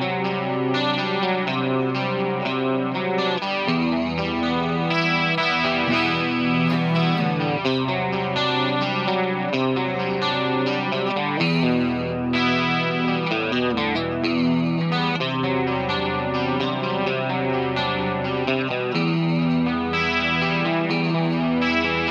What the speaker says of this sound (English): So the chorus sounds really, really good.